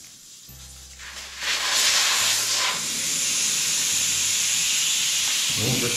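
Loud steam hisses in a continuous blast during a tire change on a KTM 690 motorcycle. A low mechanical hum precedes it, and the hiss stays strong and close throughout.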